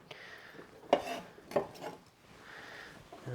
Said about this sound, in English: just cut in half, quarters, and chop that up